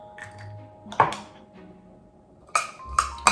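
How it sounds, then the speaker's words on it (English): Shredded cabbage tossed with a 1950s-style mayonnaise dressing in a bowl, coleslaw fashion, giving a few soft scrapes and then sharp clinks of a utensil against the bowl, close and fairly quiet, with no talking. "Mix it up like I'm kind of mixing it coleslaw."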